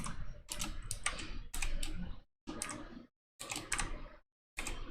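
Rapid keystrokes on a computer keyboard, typed in several bursts with short silent gaps between them, fairly close and clear, with no talking.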